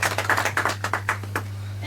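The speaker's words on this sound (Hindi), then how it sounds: "इसके लिए तालियों से उनका स्वागत।" Applause welcoming a contestant on a Hindi quiz show, a thin scattering of claps from a small audience tapping in uneven rhythm over a steady low hum, fading after a couple of seconds.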